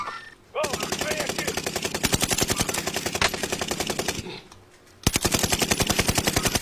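Bipod-mounted gun in a video game firing rapid sustained bursts, loud and close with sharp evenly spaced shots, a brief pause, then another burst; a voice speaks briefly at the start.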